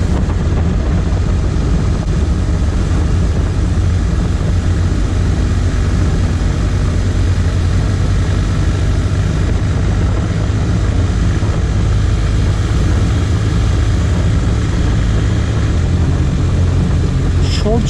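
A BMW R 1250 RT motorcycle engine cruising in fourth gear at about 2700 RPM and 40 mph, a loud, steady, continuous drone mixed with wind rush and no breaks.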